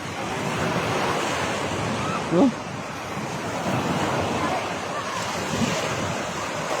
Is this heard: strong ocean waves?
yes